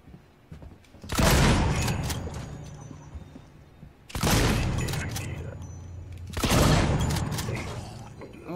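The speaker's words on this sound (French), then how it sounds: "Un petit gunshot." Three heavy gunshots blast out in the sci-fi survival game Alien Isolation, each a loud sudden burst with a long noisy decay, spaced a few seconds apart.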